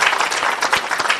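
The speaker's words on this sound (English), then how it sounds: "Let's give a big round of applause for Stephen," An audience at a real estate AI brunch event applauds the panelists, dense, loud, continuous clapping from many hands filling the room.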